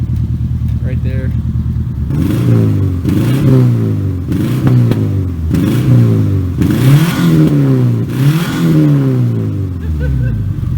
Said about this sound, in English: When you rev it, it's just straight Civic though.